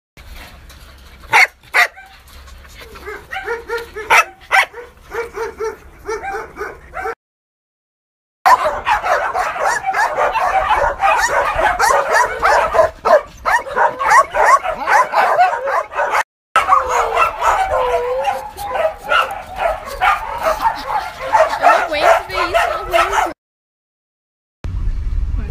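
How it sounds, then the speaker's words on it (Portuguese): Several dogs bark, yip and whimper at a kennel housing sick dogs and cats, a dense chorus of overlapping barks that fills most of the stretch with brief silent gaps between. "Hoje a gente veio visitar cachorrinhos que estão em canil, cachorrinhos e gatinhos."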